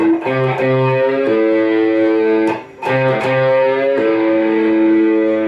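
Distorted electric guitar plays sustained notes that shift pitch as the string is pulled off, with a brief dip and a pick scrape in the middle.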